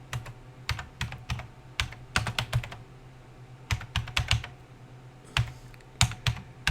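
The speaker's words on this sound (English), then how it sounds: "we've got the typing going there" Typing on a computer keyboard comes through as close, quiet clusters of rapid key clicks with short pauses between bursts and no voices.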